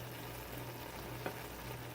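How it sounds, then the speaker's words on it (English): Quiet, steady sizzling crackles on and on, with a low hum underneath and one small click partway through. "I'm gonna let it sizzle a little bit more"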